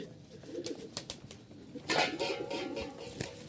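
Pigeons in a loft holding Lal Sundori and Lahori breeds give soft coos and rustling flutters, with a brief burst of wing flapping midway, all fairly faint and near.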